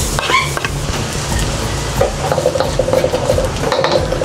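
Garlic sautéing in butter in a pan for cabbage and carrots, a loud steady sizzle with scraping and clinking of a utensil stirring against the pan, close up, no talking.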